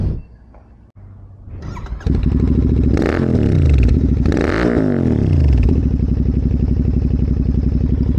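A Royal Enfield Interceptor 650 motorcycle, hot after riding, starts up close by and revs hard twice before settling into a loud, steady idle.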